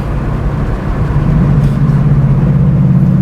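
A V8-swapped Pontiac Fiero drives at speed, its engine a loud, steady low rumble that builds slightly and holds throughout, with no talk.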